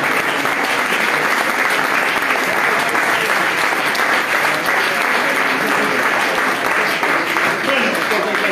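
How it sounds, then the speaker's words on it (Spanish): An audience at a homebrewing competition awards ceremony claps loudly and continuously, a dense close wash of applause that fills the whole stretch without pause. "¡Un aplauso!"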